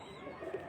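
A breeder pigeon gives a brief, soft, low coo, heard close and alone in a quiet loft setting.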